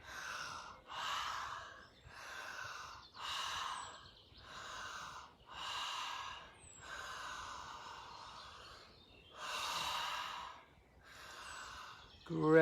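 Deep, slow breaths during a chakra breathing meditation, about ten soft in-and-out cycles in an even rhythm, close and quiet, each a breathy rush separated by short pauses.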